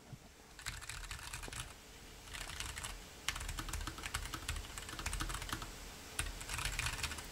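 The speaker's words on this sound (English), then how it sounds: "So there we have the Keychron S1 keyboard." Fingers type on a thin Keychron S1 RGB keyboard, producing rapid clicky keystroke bursts in several runs separated by brief pauses, quiet and close with no talking.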